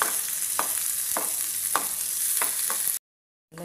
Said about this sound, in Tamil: அதையும் போட்டு நல்லா ஃப்ரை